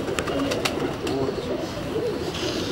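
A male Imamdin pigeon coos in low, rolling murmurs, soft and close, repeated in a steady throaty rhythm with a few faint clicks above it.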